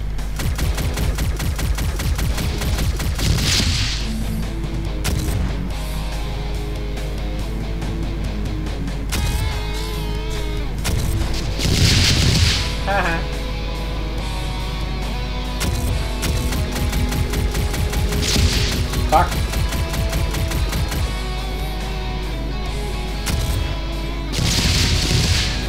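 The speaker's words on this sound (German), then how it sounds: "Hier wird scharf geschossen. Oder vielmehr grob geschossen." Relentless automatic gunfire in a Doom 2016 mod running on GZDoom, rapid mechanical bursts hammering on loudly over a droning game soundtrack, with brief explosive swells along the way.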